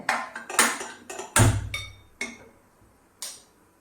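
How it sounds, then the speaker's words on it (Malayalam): A gas stove is lit under a pressure cooker with a series of sharp clicks and knocks at an uneven pace. One louder click is followed by a brief low whoosh, close and moderately loud. "അതിന് വേണ്ടി ഒരു കുക്കർ അടുപ്പത്ത് വെച്ച് സ്റ്റൗ ഒന്ന് കത്തിക്കട്ടെ"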